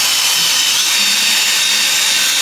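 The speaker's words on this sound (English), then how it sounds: "if you come in with a drill" A loud, steady power-drill whir with a hissing scrubbing texture as a drill brush scrubs a car interior, unbroken and close up the whole time.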